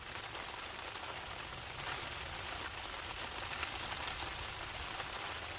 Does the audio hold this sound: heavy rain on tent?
yes